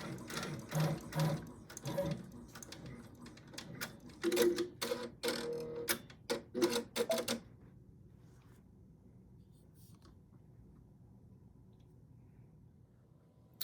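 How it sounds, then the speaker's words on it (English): A Brother PR1055X embroidery machine sews a basting stitch with rapid mechanical stitching bursts and ticks for about seven seconds, then stops, leaving a faint steady hum. "So we're going to let the machine embroider it out."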